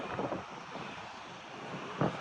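Wind gusting into the microphone while walking outdoors beside a street, a low, buffeting rumble with brief louder bursts, continuous and close throughout the short stretch.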